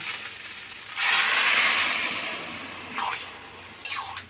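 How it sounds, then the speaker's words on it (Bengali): A burst of loud hissing as water hits a hot pan of frying sago, fading gradually, followed by two short sweeping scrapes of a utensil. "কিছুক্ষণ নাড়ানোর পর এবার আমি এতে জল দিয়ে দিলাম।"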